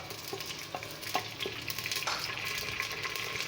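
Three onions hitting hot ghee for mutton kunna, a dense steady sizzle with crackles and stirring scrapes, close and continuous, no talk.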